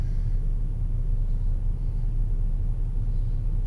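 A 2005 GM car with a 4T65-E automatic transmission cruising at highway speed around 60 mph: a steady, dense low engine and road rumble heard from inside the cabin, unbroken and without talk.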